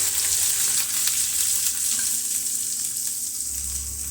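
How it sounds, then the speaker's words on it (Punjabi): Finely chopped onions hit hot oil with ginger, garlic and cumin, giving a loud, steady sizzle and crackle close by, with faint stirring scrapes and no talking. "ਹੁਣ ਅਸੀਂ ਵੀ ਬਰੀਕ ਕੱਟੇ ਹੋਏ ਪਿਆਜ਼ ਪਾ ਦਵਾਂਗੇ"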